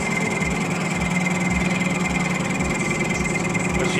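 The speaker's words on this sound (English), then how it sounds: "Just facing up the offside rear wheel" A lathe faces the offside rear wheel hub of a 2-inch scale Fowler Showman's traction engine model, giving a steady machine hum with a faint rhythmic thump repeating about twice a second, continuous and close, with no talking.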